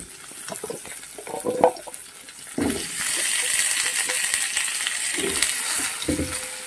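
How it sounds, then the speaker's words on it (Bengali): Cut potatoes tipped into a pan of lightly fried onion: a few clattering stirs first, then a loud, steady hiss of frying that fills the rest, close up with no voices. "দিয়ে পেঁয়াজের সঙ্গে আলুগুলোকে খুব ভালো করে ভেজে নেব, লাল লাল করে ভেজে নেব"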